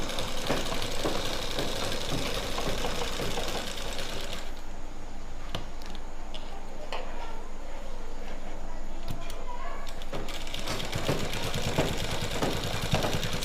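A sewing machine stitches lined pants with a fast, steady mechanical chatter up close, stopping for several quiet seconds midway before running again.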